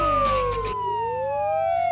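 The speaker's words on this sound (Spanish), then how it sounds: "Es la patrulla Puggy Móvil de papi." A police car siren wails loudly and close by in a children's cartoon, its pitch sweeping down and then climbing back up in a smooth electronic tone.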